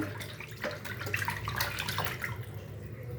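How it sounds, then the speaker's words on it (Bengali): Tap water runs steadily while fish are rinsed clean in a kitchen, a continuous close splashing wash with small irregular drips and no talking. "মাছগুলো ভালো করে ধুয়ে নিচ্ছে।"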